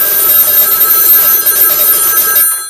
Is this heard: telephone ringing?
yes